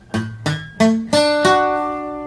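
Five plucked guitar notes played poorly by a beginner, each struck separately with a sharp attack and ringing overtones, the last few left to ring out and slowly fade.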